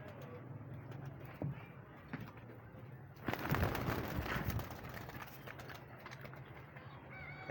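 Pigeons that have landed on the ground coo softly near a loft, with a brief louder flurry of flapping midway and quiet, steady background noise around it.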